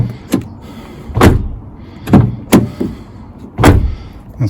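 A rear door on a Renault Clio Mk3, its seal loose, thuds shut several times in a workshop, each close a sharp, loud knock separated by short quiet gaps.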